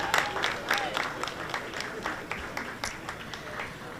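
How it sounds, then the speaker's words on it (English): An audience at a launch reception in New York applauds the Prime Minister of Jamaica, with scattered distinct claps, moderately close, tapering in a thinning rhythm. "One more round of applause for our Prime Minister and Jamaica."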